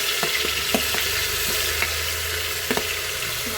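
Onions and tomatoes fry in a pan under a constant close sizzle, with repeated light scrapes and knocks of a stirring spoon throughout.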